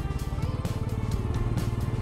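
A motorcycle engine thrums steadily with a rapid pulsing beat while riding along a road, close and fairly loud, without any talking.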